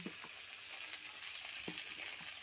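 Onion and a little tomato sizzle and fry with prawns in a pan for a Bengali fish curry, a steady soft crackle with a few light stirring scrapes, close and fairly quiet with no talking.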